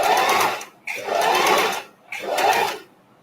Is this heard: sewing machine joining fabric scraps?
yes